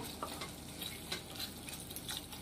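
Yogurt being stirred into prawn biryani masala in a pan over medium heat, a steady close sizzle with repeated scraping strokes of a spoon, fairly quiet and with no voices.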